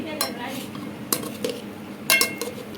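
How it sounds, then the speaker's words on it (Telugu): Rice being mixed with salt for pulihora, a spoon clinking and scraping against a metal vessel in a few quick bursts over soft background noise, close by, no speech. "దీంట్లో తగినంత సాల్ట్ వేసుకొని మనం ఒకసారి మొత్తం కలుపుకుందాం"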